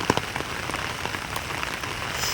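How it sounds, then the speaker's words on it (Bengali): Heavy rain pours down in a village, a dense, steady patter of drops striking surfaces close by, with no voices. "আবার বৃষ্টি নামছে বৃষ্টি পড়ছে"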